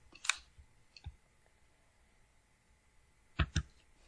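A computer mouse clicking while saving a chart file, with a few sharp, quiet clicks spaced apart, including a quick double click near the end, in an otherwise quiet room.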